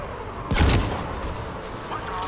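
A mounted gun fires in Mass Effect 3 combat: a loud burst of heavy gunfire lands mid-clip over ongoing battle noise, with a voice shouting nearby.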